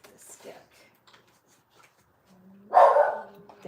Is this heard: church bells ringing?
no